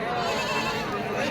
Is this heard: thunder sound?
no